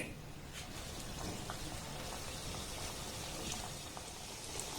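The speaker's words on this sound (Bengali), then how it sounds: "এবার যেগুলো বিস্কিটের শেপ দিয়েছি সেগুলো তেলের মধ্যে দিয়ে দেব" Semolina biscuits frying in medium-hot oil in a wok over a low flame, a steady soft bubbling and crackling hiss that runs evenly throughout without pause.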